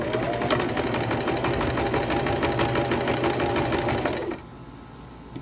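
A sewing machine runs a straight seam on a parasol dress, its needle chattering in a fast, even rhythm up close for about four seconds before it stops abruptly and leaves only quiet room tone.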